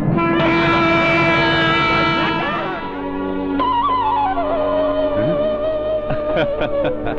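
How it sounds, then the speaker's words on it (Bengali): A train sounds a long, loud horn as it pulls away, the chord held for a few seconds and then bending and fading amid rolling rail noise. "ট্রেন তো ছেড়ে যাবে"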